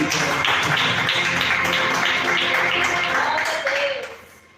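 A congregation claps in a church service, a dense continuous wash of many hands with voices mixed in, holding steady before dropping away at the end.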